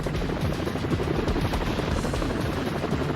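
A helicopter in the Spider-Man video game gives off a continuous, loud, pulsing rotor rumble that fills the whole stretch evenly, with no voices on top.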